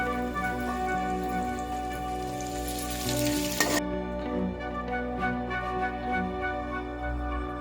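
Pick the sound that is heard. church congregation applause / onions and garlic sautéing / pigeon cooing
onions and garlic sautéing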